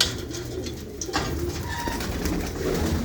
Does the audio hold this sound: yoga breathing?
no